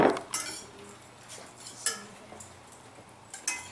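Meat being stirred back into a sauce in a pan, with intermittent clinks and scrapes of a utensil against the cookware, close but fairly quiet, with a few sharper taps spaced irregularly.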